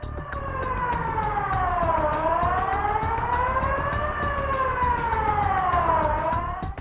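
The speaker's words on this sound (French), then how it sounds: "Lorsque vous entendez la sirène d'alerte site" A Seveso industrial-site alert siren wails, rising and falling in long slow sweeps, loud and continuous, with a steady broadband hiss beneath it.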